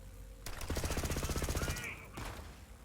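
The legendary Magnificent pistol fires in Borderlands 3 as a fast, steady burst of rapid gunshots for over a second, loud and close, followed by a trailing whoosh.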